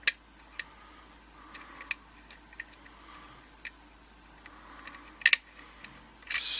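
Sharp little clicks from a Russwin rim mortice lock being picked, scattered singly and in quick pairs over faint background noise, with a louder metallic rattle at the end.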